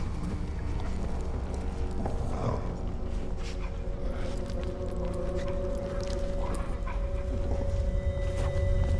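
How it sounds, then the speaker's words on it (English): A dog in the video game Dishonored pants and shuffles in a kennel area, steady and fairly close over a constant hum of game ambience and a low tonal drone, with no talk. "This is just a random dog."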